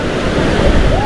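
Sea water surges at high tide in a steady, close wash of waves, loud and unbroken for a moment with no clear speech.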